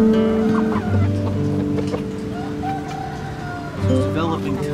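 Aseel pullets cluck in a busy poultry yard, with several birds making steady, overlapping low clucks close by and a person talking over them.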